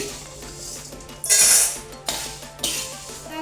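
Roasted moong and horse gram are scooped out of a pan in a home kitchen, heard as metal utensil scrapes and several bright clinks and clanks against the pan, with a rustle of dry grains between them.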